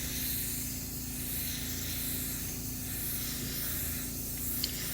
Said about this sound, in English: I'm spraying at a very high pressure and very close, so it kind of atomizes that clear coat